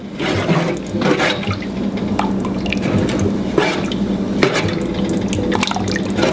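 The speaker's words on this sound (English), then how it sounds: "Give it a stir." Chili being stirred in a pot right after warm water is poured in, giving a steady wet sloshing and scraping with small liquid splashes throughout, close and fairly loud.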